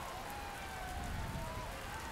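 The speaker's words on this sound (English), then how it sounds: "Dark clouds rumbled from a clear blue sky, and raindrops fell from up on high." Rain falls in a steady, soft wash of drops with a faint tonal line running through it, even and continuous with no voices.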